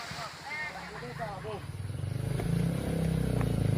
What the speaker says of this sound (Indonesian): Ini naik sepeda motor.